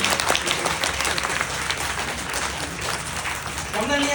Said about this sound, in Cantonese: 俾啲掌聲俾 Frankie 先